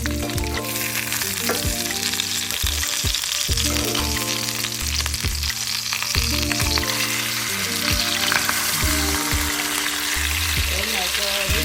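Salmon fillet pan-frying in a hot pan, a loud, steady sizzle and crackle running the whole time without letting up, with a few soft clinks and scrapes of a utensil shifting the fish.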